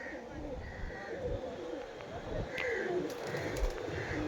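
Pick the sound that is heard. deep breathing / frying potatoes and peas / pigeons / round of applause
pigeons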